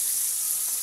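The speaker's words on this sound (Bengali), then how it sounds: "মাছগুলোকে আমি এখন উলট পালট করে দিতেছি, এপিট ওইপিট করে ভালোভাবে" Pieces of rohu fish frying in hot oil while being turned over, with a steady, dense sizzle that holds loud and even throughout.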